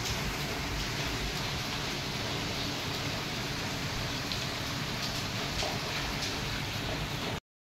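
Heavy rain pours down as a dense, steady hiss with no pauses, broad and even throughout, then cuts off abruptly at the end.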